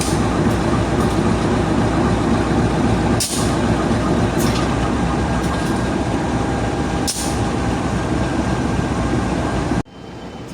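The Logawa passenger train departs, rumbling steadily and loudly on the rails with metallic clanks at intervals, then the noise drops abruptly near the end.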